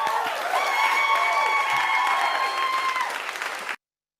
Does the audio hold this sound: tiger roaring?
no